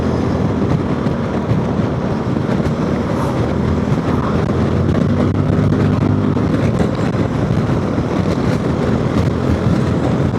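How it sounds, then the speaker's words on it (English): Adventure scooter, a Zontes 368G or Honda ADV 350, ridden at speed at the ABR festival, its exhaust giving a steady, broad, low rumble mixed with wind rush that runs unbroken and loud throughout. "We have got a nice rumble from the exhaust."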